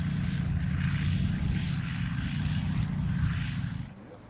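A Logic flail mower driven by a Briggs & Stratton 16 hp V-twin engine runs with a loud, steady low rumble that drops slightly in level near the end.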